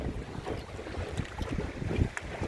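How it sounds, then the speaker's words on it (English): Gusty wind buffets the microphone beside a boat on choppy water off Fraser Island, a rough low rumble with small splashes and lapping, steady and close with no voices. "The wind's picking up a little bit, which is a bit unexpected"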